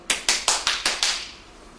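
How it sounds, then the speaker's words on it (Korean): Audience at a company safety talk at Busan City Gas briefly applauding to welcome a speaker: about six evenly spaced, sharp, ringing claps in a row, close and crisp, fading out after a second with no talking. "박수로 맞이해 주십시오."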